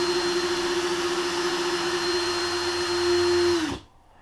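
A drill spins a tapering attachment on a custom arrow shaft, whining at a steady high pitch for several seconds before winding down and stopping abruptly.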